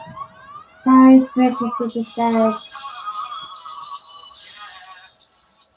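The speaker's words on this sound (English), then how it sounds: "That's my alarm." A phone alarm rings with a bright, repeating electronic tone for a few seconds beneath and after a person speaking, then cuts off.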